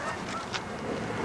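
Geese honk during a goose hunt, a few short nasal calls rising over steady outdoor background noise, moderately close and fairly faint.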